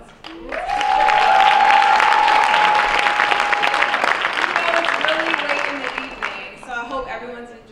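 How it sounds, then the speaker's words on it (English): Audience applause fills an awards ceremony for the African Diaspora Awards, a loud sustained round of clapping with tonal ringing from the hall, fading slightly toward the end as a few voices come through. "More of an applause."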